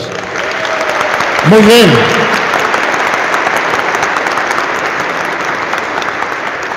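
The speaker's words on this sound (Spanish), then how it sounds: "Un aplauso para ellos." A church congregation applauds steadily for several seconds, a dense, even wash of clapping with a short spoken interjection near the start.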